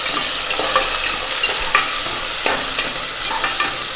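Sliced shallots sautéing in a pan for paruppu sadam, a soft steady sizzle with intermittent stirring scrapes and clinks, close and continuous with no talk.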